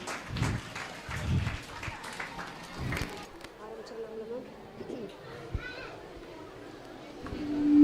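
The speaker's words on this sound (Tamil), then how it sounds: "ஒரு கரகோஷம்" Scattered bursts of audience clapping at a school prize-giving ceremony with a group world-record attempt at fireless cooking rise near the start, then thin out into children's chatter and voices.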